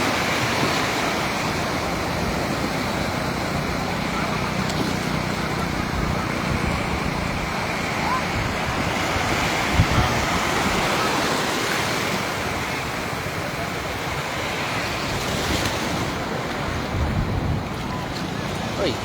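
Steady roar of sea waves washing onto the beach at Binmaley, Pangasinan, a continuous broadband surf wash with wind buffeting the microphone and no clear separate breaks.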